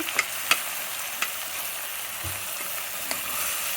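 Goat trotters (paya) fry in oil in a pan, giving a steady low sizzle with a few sharp clicks and scrapes of stirring, close and fairly quiet, with no voices.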